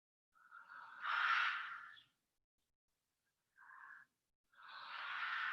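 Slow, deep yoga breaths are taken through an open mouth: a long airy exhale, a brief short breath, then another long breath, soft and close in an otherwise quiet room.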